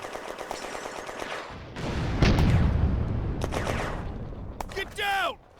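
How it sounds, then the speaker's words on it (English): Automatic gunfire from German troops at Remilly in the strategy game Firefight, set in May 1940: sustained bursts and rumbling fire close by, ending with a few sharp cracks and battlefield noise. "Automatic fire from the Germans in Remilly."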